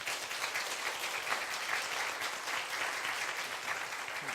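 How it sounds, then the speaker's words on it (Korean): A church congregation gives sustained, even applause during a Sunday service, with many hands clapping steadily at a distance and no voices over it. "네, 큰 박수,"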